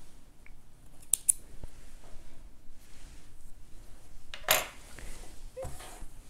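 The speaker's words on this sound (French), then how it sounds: "Je coupe mes petits fils." Scissors snip thread while a bra is sewn, giving a couple of quick close cuts early on and a sharper, louder snip midway, each brief against a quiet room.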